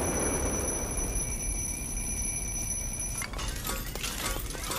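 In the video game Little Inferno, an alarm clock gives a steady, bright electronic ring for about three seconds. It then cuts off into a brief crashing, shattering clatter, with no voices.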